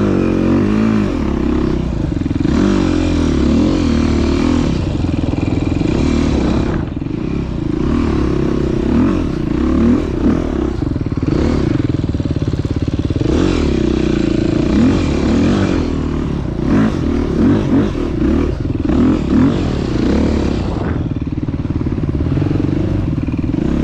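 An enduro motorcycle accelerating hard off-road, its engine loud and close with a continuous revving drone, rising and falling with gear changes, plus clatter and scraping from the rough ground throughout.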